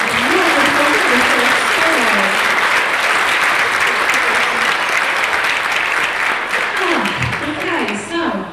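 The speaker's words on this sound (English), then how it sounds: "round of applause for Saxon Allen" A school concert audience gives loud, dense, sustained applause that fills the hall, with a voice speaking over it near the end.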